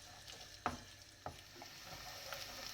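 Onions sizzle quietly in a pot for Uzbek pilaf, a soft steady frying hiss broken by a couple of sharp stirring clicks.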